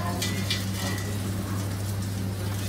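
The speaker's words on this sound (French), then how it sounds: "là on a le pain qui est en train de vraiment se caraméliser" Bread caramelizing in a hot pan gives a steady, dense sizzle and crackle that fills the whole moment, close and continuous, with a low hum beneath and no speech.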